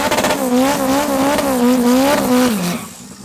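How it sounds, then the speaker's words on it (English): A Nissan GTR R33 drag car launches and races down the strip at a drag racing event, its loud engine note holding and wavering for several seconds before fading near the end. "R33. Going up against Nastin in the right hand lane here"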